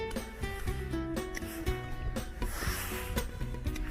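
Branches on an apple tree are cut during pruning, with close, repeated rasping and rubbing cuts through wood in a quick uneven rhythm.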